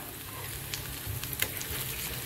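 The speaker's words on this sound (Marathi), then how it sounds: "छान खरपूस भाजत आहे" A vegetable cutlet fries crisp in a pan over a medium-low gas flame, giving a soft steady sizzle with a few brief pops and crackles, fairly quiet and without any voices.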